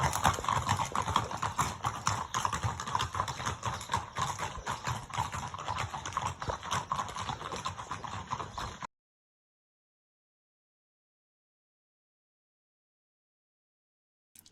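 A group of horses walks along the Camino Frances pilgrim trail in Spain, hooves clip-clopping in a steady, overlapping patter for several seconds before the sound cuts to silence.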